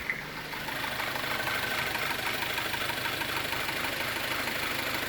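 An Audi A4 B8 engine idles steadily with a low, even rumble and faint knocking, close by, with no talk.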